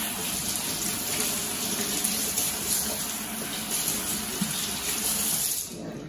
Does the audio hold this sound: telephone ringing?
no